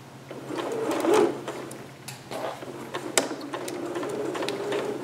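A sewing machine stitches dress fabric right over the pins in short, close bursts, its needle tapping and motor whirring with brief pauses and small clicks between runs.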